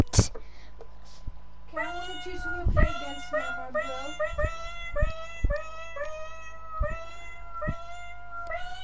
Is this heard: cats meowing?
yes